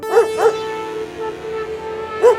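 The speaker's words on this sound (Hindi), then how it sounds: "पक्का ऐसे भौंक रहे कुत्तों" Dogs barking nearby: two quick barks, a pause, then a third bark, over a steady background hum.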